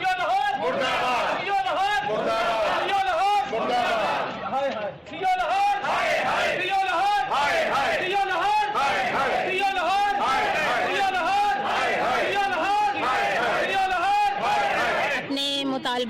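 Protesting teachers at a sit-in on a road chant slogans together in a loud, rhythmic crowd call-and-response that repeats steadily throughout, close and dense with many voices.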